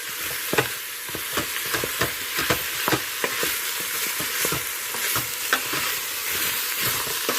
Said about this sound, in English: Let it saute for about 5 minutes or so